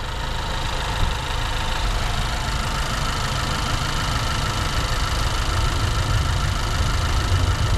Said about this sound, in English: Yeah, it's idling really good.